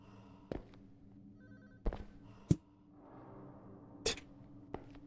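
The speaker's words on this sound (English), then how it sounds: "There's a phone somewhere." Old-style telephone bell in a horror game rings in short, sharp bursts, several spaced rings over a few seconds against a low, murky ambient drone.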